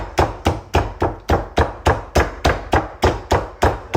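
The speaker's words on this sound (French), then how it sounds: "vous prenez votre poulet, vous tapotez comme ça légèrement." A rolling pin pounds raw chicken in a home kitchen, about a dozen evenly spaced, close thuds in a steady rhythm with no talk.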